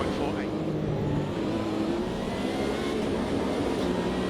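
A McLaren IMSA race car roars in the Automobilista 2 racing sim, a continuous, loud engine drone holding steady throughout with no pauses.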